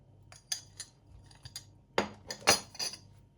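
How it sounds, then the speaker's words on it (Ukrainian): Cheese dough being mixed in a bowl after flour and baking powder go in: quiet, irregular clinks and scrapes of a utensil against the bowl, a few sharper knocks near the end. "Перемішаємо."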